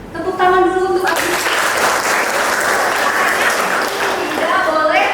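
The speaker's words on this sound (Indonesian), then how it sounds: "Tepuk tangan dulu untuk aku." Students burst into clapping in a classroom lesson. A voice is heard just before the applause, which then fills the room in a dense, steady wash and gives way to talking again at the end.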